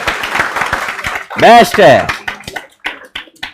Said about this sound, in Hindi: हंडी बंडी शंडी ताली बजाओ भाई इनके लिए